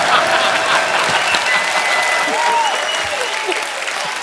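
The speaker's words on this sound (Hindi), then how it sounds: "एक बार अक्षय पाजी और रितेश के लिए जोरदार तालियां।" Studio audience at a Hindi comedy show bursts into loud, steady applause for Akshay Kumar and Riteish, dense clapping filling the whole stretch with faint chatter mixed in.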